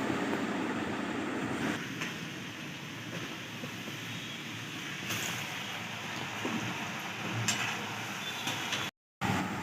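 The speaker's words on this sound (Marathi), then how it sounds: "आपण कढईत तेल तापत ठेवलंय तर ते तळून घेऊया" Potato French fries deep-fry in hot oil in a wok, giving a soft, steady bubbling hiss heard close but quietly throughout, with a brief dropout near the end.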